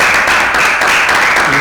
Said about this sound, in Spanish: los despedimos de parte de la comisión con un aplauso